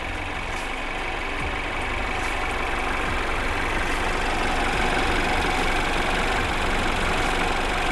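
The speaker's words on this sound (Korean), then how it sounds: "엔진 소리 일정하네요" A Mercedes-Benz C-Class W205 C200 coupe idles with the hood open, its engine humming at a steady, even pitch up close, with no voices over it.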